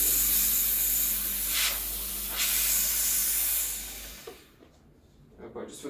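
A loud, continuous steam hiss from the steam wand of a Breville Dual Boiler BES900 espresso machine, with a low hum beneath, swelling twice, then cutting off to near quiet with a few small clicks.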